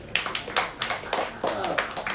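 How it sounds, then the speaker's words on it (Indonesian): A small audience at a book discussion held in a community reading garden in Denpasar gives a short round of applause, a few sparse, irregular hand claps sounding close by. "tepuk tangan buat ini dulu"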